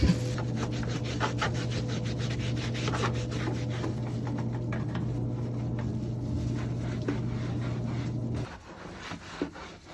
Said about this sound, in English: So we're gonna go down, scrub the floors, see if we can get anything better out of it